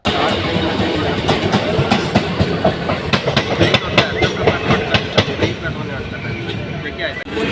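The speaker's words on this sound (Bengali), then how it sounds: "আমাদের ট্রেন পার করছে এখন লিলুয়া স্টেশন।" A Howrah–Katwa local train rolls along the tracks near Liluah station, its wheels hammering out a loud, close, rhythmic clickety-clack over a constant rumble.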